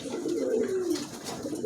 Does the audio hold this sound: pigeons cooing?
yes